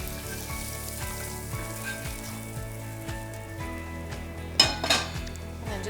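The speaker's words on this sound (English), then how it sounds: "Just give it a stir." Spoon scraping and clinking against a pot of beef stew with carrots, potatoes and mushrooms, repeated rhythmic strokes over a steady sizzle, ending in a louder clatter.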